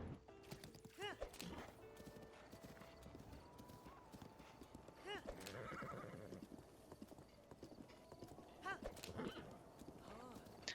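Horse in the game Zelda Breath of the Wild, hooves clip-clopping steadily at a gallop with several whinnies and snorts rising over the trotting, close and fairly quiet, with brief game sounds around it.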